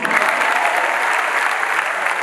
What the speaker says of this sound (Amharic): አጨብጭቡ እስቲ።